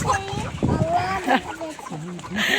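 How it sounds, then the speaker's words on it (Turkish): Several black hens clucking close by in short, choppy bursts, with a person talking and a voice over them. "Burada bir sürü siyah tavuğumuz var arkadaşlar"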